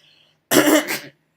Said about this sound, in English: Sorry, I got a little cough.